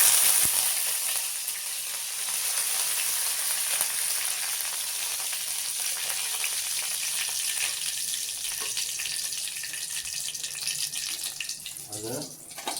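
Curry leaves sizzle and crackle in hot oil in a pan, a loud, steady frying hiss throughout with a few stirring clinks near the end.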